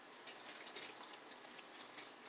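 Water pours into a pot for homemade bone broth in a kitchen, a soft steady splash and trickle with small drips, fairly faint and close, with no talking.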